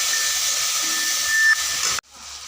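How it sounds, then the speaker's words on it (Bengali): Spices with turmeric and salt fry in a pan, giving a close, steady hissing sizzle that cuts off abruptly near the end. "হলুদ, পরিমাণ মতো লবণ, ভালো করে ভেজে নেব।"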